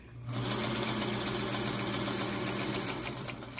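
A sewing machine chain sews fabric pieces for a quilt block, starting after a brief pause and then running in a continuous, even mechanical whir with rapid stitching pulses, close by and without speech.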